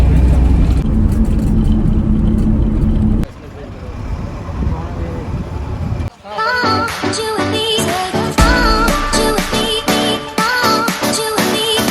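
A small bus travelling from Puri to Konark gives a low engine drone and road rumble. Loud pop music and talk join and soon dominate over the vehicle noise.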